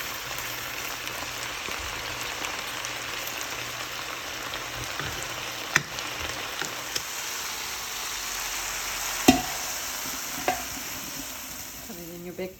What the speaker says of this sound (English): I'm going to cook until the onions are translucent, see-through. Stir it ever so often.